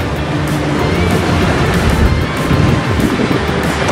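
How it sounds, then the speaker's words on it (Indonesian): Heavy ocean waves pound roadside cliffs in a constant, loud rushing roar, with gusty wind noise on the microphone and a low rumble underneath. "Ombak yang cukup deras ya."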